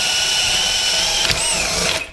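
A bimetal hole saw on a power drill cuts through layered material, a loud steady whining grind with a brief knock near the middle and a rising squeal before the motor winds down.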